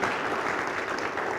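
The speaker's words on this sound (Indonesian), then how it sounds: "boleh beri tepuk tangan saudara" Brief, steady applause from a church congregation, an even wash of many hands clapping at moderate volume without break.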